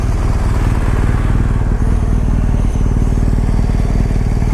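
A BMW GS motorcycle on a test ride around a block, its engine droning loud and steady with a fast pulsing throb, close to the mic and joined by wind noise, with no voices.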